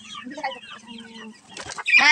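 Small flock of young chickens in a pen clucking softly, a few short calls rising to a louder, brighter burst of clucks near the end.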